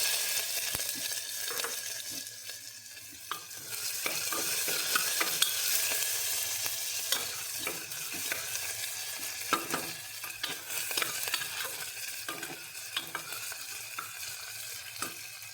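Garlic-ginger paste and onion frying in oil for an Assamese mutton curry, a continuous sizzle with repeated stirring scrapes and occasional clicks of the spoon against the pan, close and without talk.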